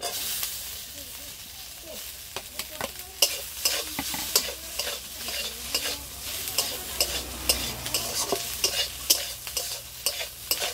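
Fried eggplant stirred in a pan of hot oil with mustard seeds for a Bengali neem-begun dish, giving steady low sizzling and frying hiss broken by repeated sharp scraping clicks of the spoon, close and fairly quiet.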